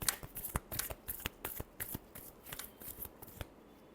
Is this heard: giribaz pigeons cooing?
no